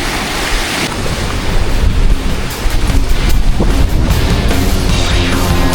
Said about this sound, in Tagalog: Galit na galit yung alon